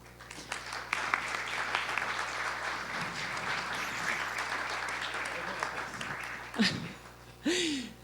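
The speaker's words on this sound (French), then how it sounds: "vous pouvez l'applaudir aussi" Conference audience applauding at an opening event, a dense wash of clapping that holds steady for several seconds, with voices breaking through near the end.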